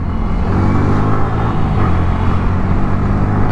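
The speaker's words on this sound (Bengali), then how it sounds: "আজকে কিন্তু ট্যুরে যাব MT-15 নিয়ে, যেটা বর্তমানে চালাচ্ছি" Steady engine drone of a Yamaha MT-15 motorcycle being ridden on a tour, a loud continuous rumble with no pauses and no voices.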